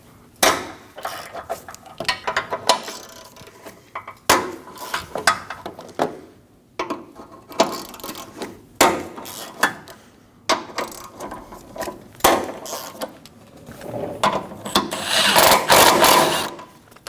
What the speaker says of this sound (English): Using a 17mm socket, I'm going to go around and loosen all of the bolts.